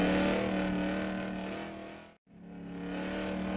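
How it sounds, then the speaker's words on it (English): A street stock race car laps Boomtown Speedway, its engine drone building loud and close, cutting off abruptly for a split second, then rising again as it accelerates away, with no voices. "Here comes Gray Wizard coming around for lap number 2, exits the backstretch, comes out the turn"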